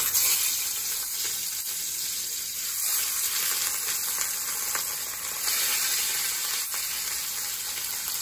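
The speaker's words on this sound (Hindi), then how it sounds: "तेल गर्म हो गया है पूरा, अब इसमें एक एक करके फिश को फ्राई करेंगे।" Rohu fish pieces shallow-frying in hot oil for a Bengali dhaba-style fish curry give a steady, close, broadband sizzle and hiss that persists throughout with slight swells and no talking.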